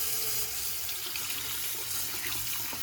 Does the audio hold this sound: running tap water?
yes